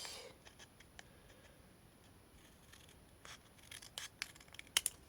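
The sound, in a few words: cutting paper with scissors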